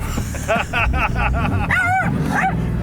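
A dog barks and yips in a quick series of sharp, high calls, close and loud, over a low rumbling engine from a Porsche 911 being driven nearby.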